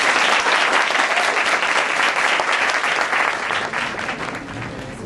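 Audience at a lecture on professional legislation for performing artists and technicians breaks into dense, loud applause, a thick steady roar of clapping that tapers slightly toward the end.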